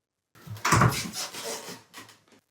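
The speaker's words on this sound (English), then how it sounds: "And you just hear the door shut behind me again." An interior door swings shut behind someone in a building during a paranormal investigation, a single close wooden thud with a short rattle, followed by fainter knocking-like sounds before silence.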